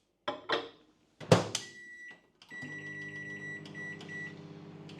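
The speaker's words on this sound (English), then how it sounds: "And then that goes in the microwave for 5 minutes." Microwave oven door shutting with a couple of thumps and clicks, then the oven starts up into a steady humming drone with a faint whine, close by and with no talking.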